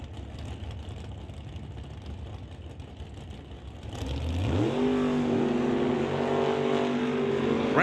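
Plymouth and Chevrolet drag racing cars at a non-electronic series drag strip, a steady distant rumble that gives way to a loud nearby engine roar revving up and climbing in pitch.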